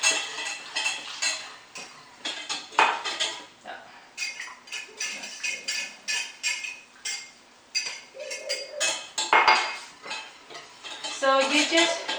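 A butter and flour mixture being stirred in a pot, with repeated clinks and scrapes of a utensil against the metal throughout, close and fairly busy, and a voice heard faintly at times.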